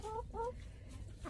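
A hen clucks twice in quick succession, short rising calls close by but quiet, with low background noise from a backyard chicken flock.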